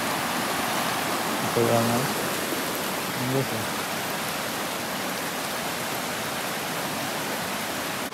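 A swollen brown river rushing after heavy rain in the countryside, a loud constant broadband roar with someone briefly speaking over it.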